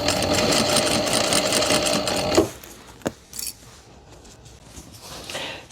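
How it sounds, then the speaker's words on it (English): Sewing machine stitching closed a hole in the lining of a faux fur shoulder bag, a fast close rattling hum for about two seconds that stops, followed by a few quiet handling clicks and rustles. "Now all that's left to do is sew this hole up in the lining."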